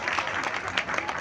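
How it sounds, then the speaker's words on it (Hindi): A burst of crowd applause, dense steady clapping from many hands heard close and fairly loud. "तो एक बार अपने लिए दिल से तालियां बजा दें,"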